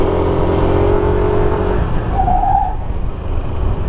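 A 2020 Yamaha Nmax ABS scooter skids under hard rear braking, a steady loud engine and tyre rumble with a brief squeal midway, recorded close up without talk.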